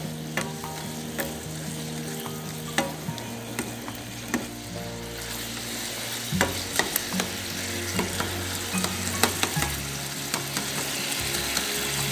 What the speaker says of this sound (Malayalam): ഇതിലേക്ക് നമുക്ക് കുറേശ്ശെ സ്റ്റോക്ക് ഒഴിച്ച് കുറുക്കിയെടുക്കാം.